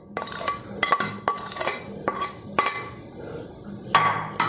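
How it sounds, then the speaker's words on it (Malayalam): Meat being mixed by hand or spoon with crushed ginger, garlic, green chillies and salt, giving a run of close, sharp clinks and scrapes against a metal bowl, repeated in uneven bursts with no talking. "നന്നായിട്ടൊന്ന് നമുക്ക് മിക്സ് ചെയ്യാം"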